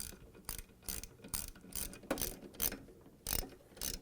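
Rapid ratchet wrench clicking in regular bursts as half-inch bolts are tightened on a washer transmission gearcase, close and fairly quiet with no talking.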